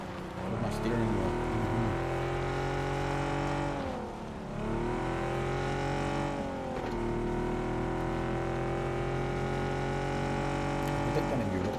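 Engine of a Coupe RB car driving in the video game PUBG, a steady close motor drone with two brief dips in pitch as the car shifts or eases off, then pulls again.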